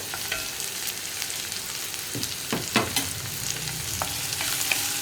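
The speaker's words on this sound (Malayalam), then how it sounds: "ഈ ഉള്ളിയും കറിവേപ്പിലയും നന്നായിട്ടൊന്ന് കുക്കായി വരുന്നത് വരെ ഇളക്കി കൊടുക്കുക." Sliced onions and curry leaves sizzle steadily in coconut oil while a spoon stirs them, a constant hiss broken by occasional scraping strokes against the pan, close and loud with no voices.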